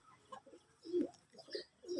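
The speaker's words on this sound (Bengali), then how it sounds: "এই যে দেখতেছেন গিরিবাজ কবুতর, সব পাকিস্তানি কবুতর" Soft, low coos from Pakistani Giribaz pigeons in a few short phrases, quiet and a little distant, with nothing else much around them.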